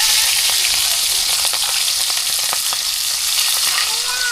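Chopped chillies and onions hitting hot oil in a village kitchen, a loud dense continuous sizzle with faint stirring taps, no talking.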